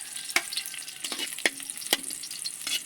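Garlic frying in a pan with onion, a steady hiss of sizzling oil punctuated by several sharp stirring scrapes, close and alone with no talk.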